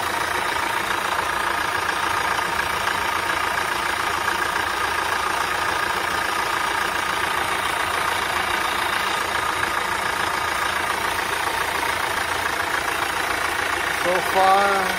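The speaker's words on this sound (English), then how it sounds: "Then we're going to run the engine." A Mitsubishi 4D56 diesel engine idling in an L200/Triton/Strada pickup during an oil change and engine flush, a steady, close, rattling mechanical drone holding even throughout, with a brief rise near the end.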